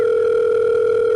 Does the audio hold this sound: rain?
no